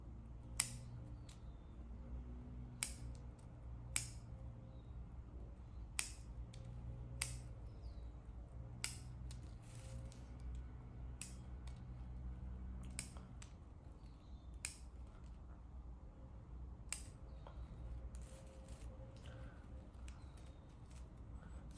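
Sharp, isolated snips of small, slightly dull scissors trimming Catlin elm bonsai branches, about a dozen spaced a second or two apart, close and crisp over a low background hum.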